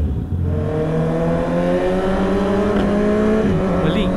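A Honda CB650R motorcycle engine revs up on a bypass highway, its loud rising four-cylinder whine climbing steadily in pitch, close and continuous with wind noise.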